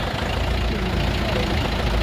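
A Lovol 454 tractor, 45 horsepower, four-wheel drive, idles nearby with a low, rough, continuous rumble.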